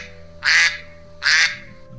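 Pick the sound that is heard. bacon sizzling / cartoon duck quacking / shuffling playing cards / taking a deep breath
cartoon duck quacking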